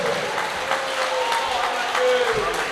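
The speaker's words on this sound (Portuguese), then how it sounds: "Palmas para Ele." A church congregation claps for God after a sermon, a lively and fairly loud wash of hands throughout, with a voice and some tonal sound from the service running underneath.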